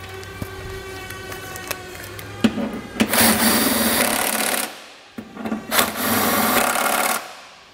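An impact wrench drives the original hardware bolts into the frame rail of a 2021 Toyota Venza during a Curt trailer hitch install, two loud sustained rattling bursts after a few light clicks and taps, close and without talk.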